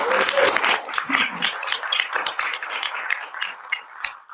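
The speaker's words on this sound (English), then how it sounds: "So let's give a round of applause" Applause from an audience at an annual meeting of an equal rights alliance, a dense patter of many hands with brief voices mixed in, fairly steady and gradually thinning toward the end.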